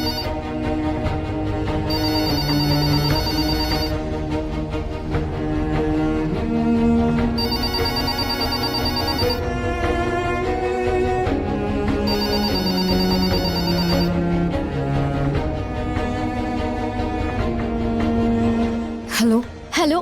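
A phone in a home rings with a looping melodic ringtone, repeated bursts of tones over background music, loud and steady for about twenty seconds.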